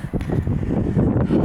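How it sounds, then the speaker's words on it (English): Blustery wind buffets the microphone in an allotment garden in March, a continuous low rumbling roar with no voices. "So windy."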